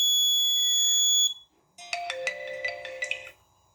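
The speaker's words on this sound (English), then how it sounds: "Okay, high gas alert." An Arduino-based air pollution monitor with an ESP8266 and GSM sounds a high gas alert, first as a sustained electronic tone, then after a short gap as a rapid series of beeping pulses, clear and close.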